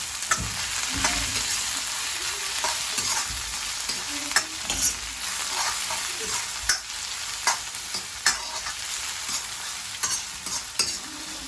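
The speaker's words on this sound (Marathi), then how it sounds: "त्यानंतर आपण टाकणार आहे अद्रक लसूणची पेस्ट आणि थोडंसं परतून घ्यायचं." Capsicum and ginger-garlic paste sauté in hot oil for Thai-style chicken, a continuous close sizzle with regular scraping strokes of a spatula knocking the pan every second or so, no speech.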